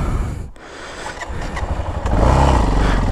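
A motorcycle engine rumbles loudly nearby, dipping briefly then swelling into a stronger, steady roar as it revs up.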